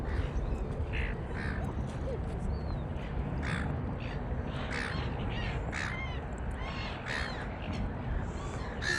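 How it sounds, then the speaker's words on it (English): Silver gulls calling in Port Adelaide, harsh repeated cries close by over a constant outdoor background rumble. "These are garden variety silver gulls."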